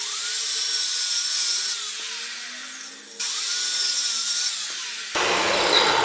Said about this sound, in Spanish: Utilizando una máquina con un disco de corte en seco, porque hay disco de corte mojado y de corte seco.